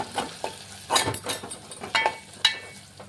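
A spoon stirs chilli powder, coconut powder and spices in a frying pan for fish curry, making irregular scraping strokes and clinks over a light sizzle, close up with no talking.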